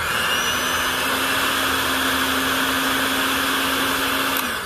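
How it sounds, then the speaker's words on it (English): A small electric motor strains through Valvoline SynPower 75W-140 gear oil in a cold pour test, making a constant whirring whine at a steady pitch that stays loud and close for the whole stretch before cutting off at the end. "So you can hear a little bit more strain on the motor"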